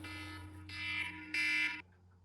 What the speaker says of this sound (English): please don't be my 7:30 alarm yet